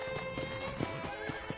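A horse's hooves clip-clop at a steady rhythm in the Red Dead Redemption video game, with sustained tonal game sound running underneath the even, moderately loud hoofbeats.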